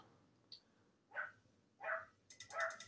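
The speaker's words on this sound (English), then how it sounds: "I got my pup barking in the background." A dog barks three or four times at a distance in a car workshop, sharp separate yaps with pauses between, faint against a quiet background.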